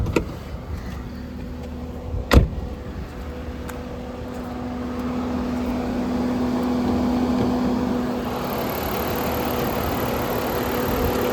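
Idling V6 engine of a 2004 Jaguar X-Type with the bonnet open, a low steady hum under a single sharp click early on, with the sound growing slightly fuller later.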